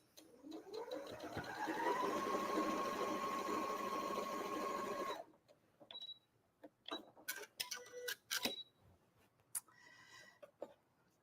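A sewing machine runs steadily for about five seconds, stitching quilt block seams with a rising whir that settles into a hum, then stops, leaving scattered clicks and handling taps.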